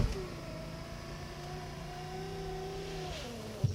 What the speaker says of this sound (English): Even the rear windows are motorized, but the closing is pretty slow.